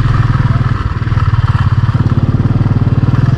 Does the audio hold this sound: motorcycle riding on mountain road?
yes